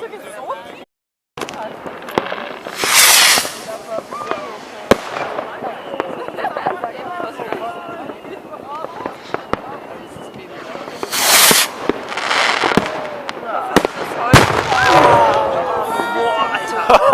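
New Year's Eve fireworks in Vienna burst in sharp, loud bangs and crackling volleys, some near and some farther off, over a cheering, chattering crowd.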